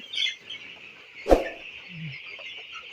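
Sixteen-day-old broiler chickens kept short of water before vaccination give faint, scattered peeps and chirps over a low background, with one sharp knock partway through.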